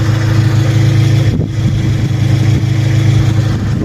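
A car engine runs loud and close as the car sets off after a wheel-rim change, a steady mid-pitched drone with a brief dip partway through, no voices.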